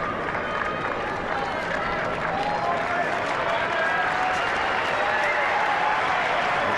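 A tennis crowd at Indian Wells applauds steadily and densely throughout a match between Federer and Agassi, with a commentator's voice faintly under the clapping.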